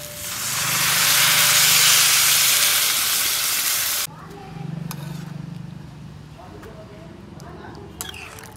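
Water hits a hot pan of frying vegetables for Bengali sukto with a loud, roaring sizzle that swells for about four seconds, then cuts off abruptly into a quieter, steady frying hiss with occasional small clinks.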